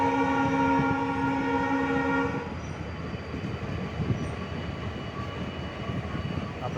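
A loud, steady train horn sounds for the first two seconds, then cuts off and leaves the broad rumble of the train rolling through Songadh railway station without stopping, on the Lathi to Sihor route.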